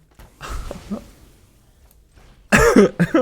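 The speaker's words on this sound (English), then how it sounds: "Sorry about that cough." A person coughs near the microphone during a Magic: The Gathering Standard gameplay session: a soft rough cough early on, then after a quiet pause a loud, harsh burst of coughing at the end.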